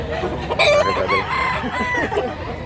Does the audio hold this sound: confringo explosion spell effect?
no